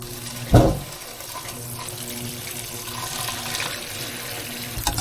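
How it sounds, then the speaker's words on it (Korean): Cooked noodles for kimchi noodle soup are rinsed and rubbed under cold running tap water in a sink, a steady close splashing stream with a sharp clatter near the start. "면은 찬물에 헹구실 때 반드시 비벼 주셔야 돼요"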